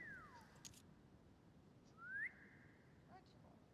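Whistling in a video game, two drawn-out whistled tones, one falling and then a rising one, fairly faint over a quiet hiss with a few soft chirps.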